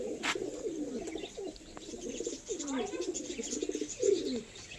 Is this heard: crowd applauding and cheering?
no